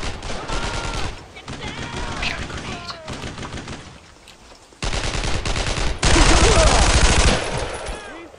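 Bursts of machine-gun fire and rattling fusillades in the World War II shooter Brothers in Arms: Road to Hill 30, coming in loud stretches separated by brief lulls, with occasional voices between shots.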